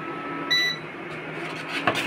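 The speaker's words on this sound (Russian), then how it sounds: "Если мы уберем, допустим, кастрюлю, вы услышите вот такой" Induction hob giving a short electronic beep when a pot is lifted off, a brief clear tone over a low kitchen hum, followed by faint clicks.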